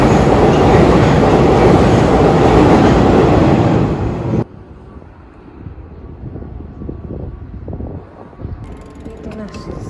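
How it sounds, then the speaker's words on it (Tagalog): A train in Japan rushes past close by, a loud continuous rumble with rail clatter that cuts off abruptly, leaving quiet ambient sound and faint movement behind. "Pag dumaan yung train, dito tayo,"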